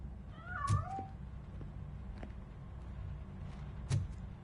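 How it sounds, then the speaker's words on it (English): A cat meows in the video game RoboCop: Rogue City, a single rising-falling meow early on followed by a fainter cry near the end, heard alone over quiet background ambience. "That cat must be hiding inside."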